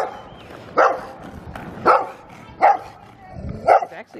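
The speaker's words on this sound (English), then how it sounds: "Cute barking doggy." Small schnauzer dogs bark on a residential street, four sharp separate yaps spaced about a second apart, fairly close and clear over a faint background hiss.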